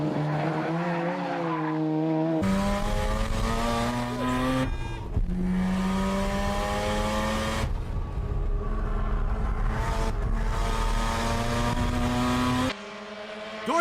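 Tuned Mazda FC3S cars race on a track: loud engines scream and rise in pitch through gear changes, with abrupt cuts between passes as the cars chase each other.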